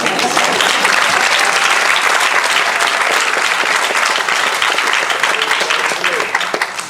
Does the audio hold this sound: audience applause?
yes